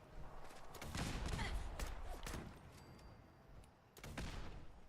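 Turret gunfire in a modded Fallout 4 game, sounding as bursts of rapid shots that swell into a dense fusillade, ease off, then return with a fresh loud volley near the end.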